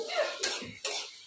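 Vegetables sizzle in hot oil as they are tempered in a pan with salt and turmeric, while a utensil stirs them in a few quick scraping strokes, close up.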